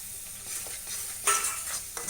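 Spices frying in hot oil for a village-style mutton curry, a steady close sizzle with the scrape of stirring running throughout, no talk.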